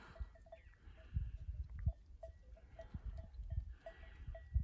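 Goats bleating in short calls at a distance over a faint outdoor background, with occasional low thumps and rustles nearby, on snowy high-altitude ground on a sunny day.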